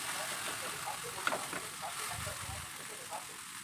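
Food sizzles quietly on a hot tawa griddle with oil and water, a steady soft frying hiss with faint spatters, while someone talks over it.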